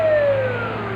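A Joshua Tree Fire Department fire engine's siren sounds loud and close in a 1985 parade in Yucca Valley, California, one wail gliding steadily downward in pitch over a low engine rumble.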